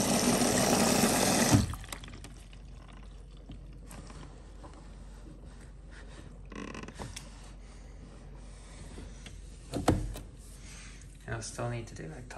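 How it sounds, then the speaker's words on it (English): A Hoover H-WASH 700 washing machine flushing water through its detergent drawer, with a loud rushing fill at first, then quieter trickling, clicks and mechanical creaks. "Washing powder pouring in."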